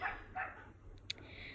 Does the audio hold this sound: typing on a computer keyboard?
no